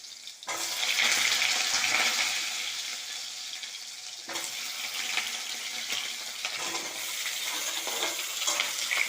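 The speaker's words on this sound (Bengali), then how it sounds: "আমি এটা প্রথমে নুন হলুদ দিয়ে তেলে ভেজে নেব।" New potatoes cut into rounds sizzle in hot oil with salt and turmeric, a steady close crackling fry that keeps going, with a brief stir or shift in the pan partway through.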